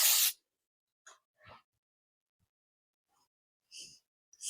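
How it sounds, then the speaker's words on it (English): A sharp hiss of aerosol dry texture spray on hair during an updo opens the clip, followed by quiet gaps, a couple of soft voice fragments and two more short spray bursts. "And we're gonna hit it with the dry texture spray."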